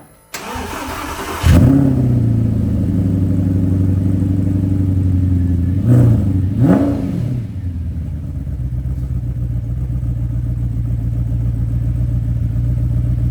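An Audi R8 engine cranks and fires after a valve carbon cleaning, catching with a loud rev, then settling into a steady idle with a couple of brief blips partway through, close and without talk.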